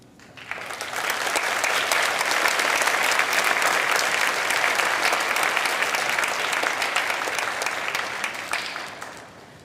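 An audience at a girls' school convocation breaks into sustained applause, swelling quickly and holding steady for several seconds before tapering off.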